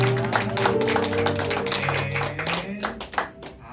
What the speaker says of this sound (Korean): 우리에게 기쁨 주시는 하나님께 영광의 박수 올려드리겠습니다